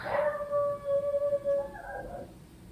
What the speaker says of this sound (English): yes, neighbor's dog.